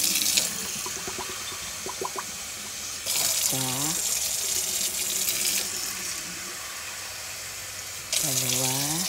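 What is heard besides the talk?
water running from tap into container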